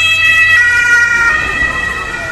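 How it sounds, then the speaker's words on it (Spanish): A fire truck siren wails steadily through loud city traffic in Würzburg, with sustained tones holding strong from start to end and a rumble of vehicles underneath. "el camión de bomberos"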